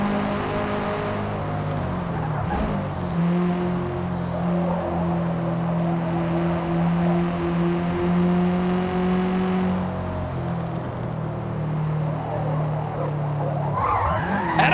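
Race car tires squeal as the car slides sideways in Forza Motorsport on Xbox Series X. The engine drones steadily throughout, loud and close, and the slide carries on for most of the stretch with no one talking.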